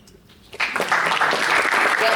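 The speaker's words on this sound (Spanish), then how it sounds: "Pueden aplaudir." Audience applause at a youth congress environmental talk, bursting in suddenly after a quiet moment and holding as a full, steady round of clapping, with a voice faintly audible underneath.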